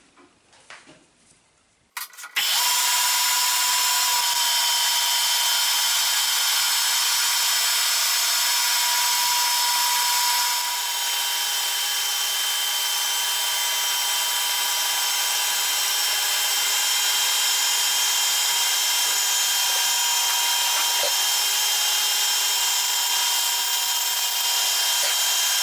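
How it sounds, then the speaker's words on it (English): A new metal lathe finishes a tailstock repair part, starting after a brief quiet moment with a steady, loud, continuous machining whine that holds on unbroken, close up and alone. "So I will just finish my part here, playing a little bit with my new lathe."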